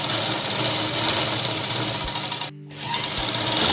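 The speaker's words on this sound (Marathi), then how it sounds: "इथे पण आपण संपूर्ण टिप मारून घेणार आहोत." A sewing machine stitches the edge of a fabric baby bunny bonnet, a fast continuous whirring rattle with one brief pause before it resumes.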